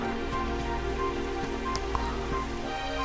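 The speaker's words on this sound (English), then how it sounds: "It would have to go and start raining, wouldn't it?" Steady rain falls outdoors in a soft, continuous patter, with a few brighter drops standing out against the even hiss; no voices are heard.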